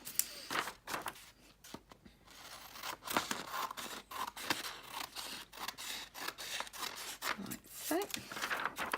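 Scissors cutting out a printed paper design for Bible journaling, with repeated close snips and paper rustling in an uneven rhythm while a person talks quietly throughout.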